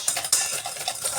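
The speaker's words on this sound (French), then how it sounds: "Là je fais que mélanger." Sugar and egg being stirred together in a bowl for oat cookies, a close, steady scraping and clinking of a utensil against the bowl with a couple of sharper knocks, no voices.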